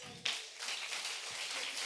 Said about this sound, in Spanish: Démosle un fuerte aplauso, hermanos.